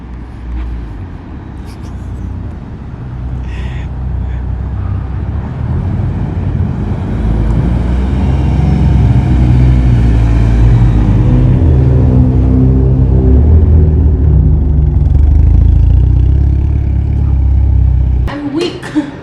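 A Mitsubishi Evo 8 with an AGT 52mm turbo idling and revving, heard from outside the car. The deep engine rumble swells and then settles, with wind buffeting the microphone.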